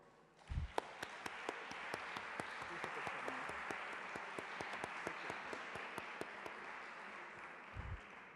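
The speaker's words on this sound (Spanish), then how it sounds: "vamos a despedir a nuestra ponente con un aplauso" An audience at a lecture on violence against women applauds the departing speaker, a soft, even spread of many hands clapping that builds, holds for several seconds and tapers, with a couple of low thumps at the start and end.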